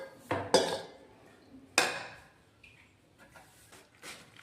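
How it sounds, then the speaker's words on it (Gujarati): A spoon scrapes and clinks against a pan while dates are stirred together with roasted cashew and almond pieces, giving a few sharp metallic knocks and then softer scraping, close and alone. "તેને કમ્પ્લીટ રીતે આપણે હલાવી દઈશું"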